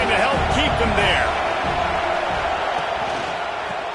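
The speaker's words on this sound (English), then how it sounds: "this crowd trying to help keep him there." Stadium crowd at a Colorado at USC college football game roars steadily in a broad wash of noise, with a commentator talking over it; the din eases slightly toward the end.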